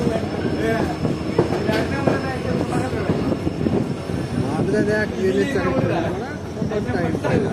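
Continuous rumble and rattle of the Azimganj–Rampurhat passenger train heard from inside a carriage as it leaves Morgram station, steady and loud, with people talking over it.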